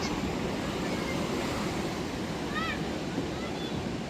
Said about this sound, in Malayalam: കോഴിക്കോട് ബീച്ചിൻ്റെ അത്ര ഒരു തിരമാല ശക്തി ഇവിടെ ഉണ്ടാവാറില്ല രാത്രിയിലുള്ള ശക്തി ഇതാണ്